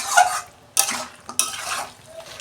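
Chicken gizzard and liver sizzle steadily while frying in a pan, broken by three scraping bursts of stirring near the start, at about a second and again just after.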